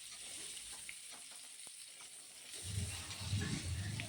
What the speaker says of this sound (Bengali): আলু দিয়ে ভালোভাবে তেলের মধ্যে ভেজে নিচ্ছি।